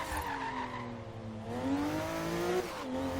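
Twin-turbo Subaru Brat engine in the video game Forza Horizon 3, droning and rising in pitch through a moderate rev, then dipping and climbing again as tires scrub, steady and close with no talk.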